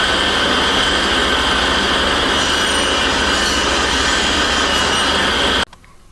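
Hand saw rasping notches into the corners of a maple tray: a loud, continuous, close-up grinding stroke that runs for several seconds before cutting off abruptly.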